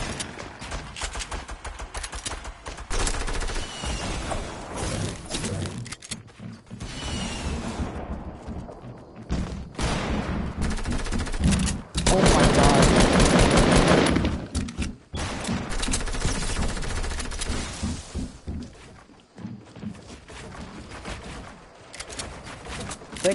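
Rapid bursts of gunfire in an online duos shooter match, dense and loud with a sustained stretch of heavy firing mid-way, other game sounds between volleys.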